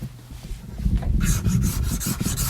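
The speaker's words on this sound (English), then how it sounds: "scoop some material out of the middle here to make that cup. I bend the scraper to get that edge doing the cutting" A flexed hand scraper scoops material out of the middle of a wooden instrument part in a repair shop, giving a close, continuous rasping scrape with rhythmic strokes that grow brighter partway through.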